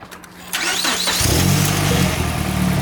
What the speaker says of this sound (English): Benny is gonna start it.